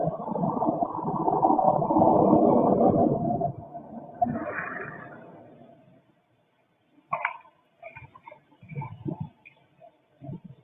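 Cassette tape being rewound and fast-forwarded on a player, a loud whirring drone for several seconds that fades out, followed after a pause by scattered clicks and short mechanical bursts.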